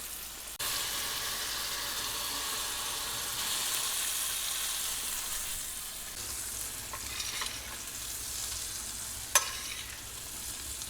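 Hybrid striped bass fish frying in butter in a pan, a steady close sizzle running throughout with faint stirring and one short sharp tap near the end, with no talking.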